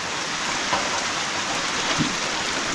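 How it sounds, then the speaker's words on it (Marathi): Steady rain falls outdoors in the Konkan countryside during a passing cloud shower, a continuous even hiss with no voices. "कुठला तरी ढग एखादा मध्ये मध्ये येतो आहे आणि पाऊस पडतो आहे"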